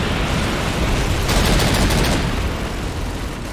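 Sustained automatic gunfire in the video game Call of Duty 2, a dense, loud rattle of shots with a heavier flurry in the middle, heard alone without talk.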